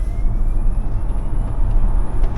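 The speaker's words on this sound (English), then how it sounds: "listen to this high-pitch sort of inverter whine" A Kia EV6 GT electric car is under way, with a thin high-pitched whine from its electric motor and inverter riding steadily above a loud low road and drive rumble.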